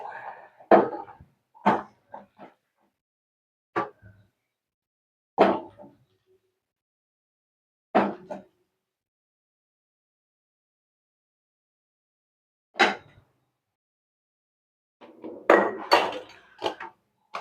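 A spoon stirs tamarind rice in a pan with sparse, separate scrapes and knocks. Each burst is short and close, with long quiet gaps between them.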